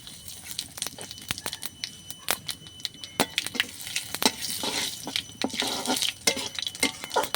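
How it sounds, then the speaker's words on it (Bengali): Bay leaves, dried red chillies and whole cumin seeds hit hot oil in a pan, giving a quiet steady sizzle broken by sharp crackles and pops, with light stirring clatter. "এবার এই তেলের মধ্যে দিয়ে দিচ্ছি দুটো তেজপাতা দুটো শুকনো লঙ্কা আর অল্প একটু গোটা জিরে"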